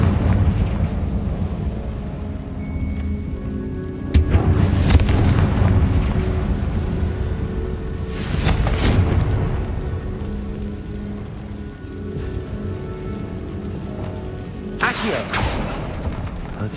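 Fiery Confringo spell blasts in Hogwarts Legacy, set in a tomb: several loud, rumbling bursts land a few seconds apart over a steady low game ambience.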